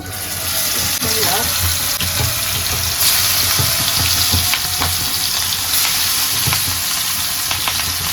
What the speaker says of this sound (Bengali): এখানে মাছ দিয়ে দিব, মশলা টশলা ভেজে নিলাম, কড়া করে ভাজবো এটা